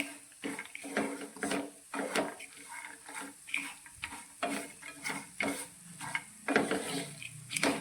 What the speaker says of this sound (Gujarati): નારિયેળના છીણને બધી જ વસ્તુ સાથે સારી રીતે શેકી લઈશું